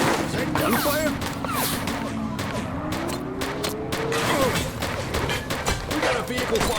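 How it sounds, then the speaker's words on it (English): Gunfire and a vehicle fire during a police chase in the video game The Precinct: scattered shots and crash-like bursts under a busy game mix, with someone talking over it throughout. "Is that gunfire?"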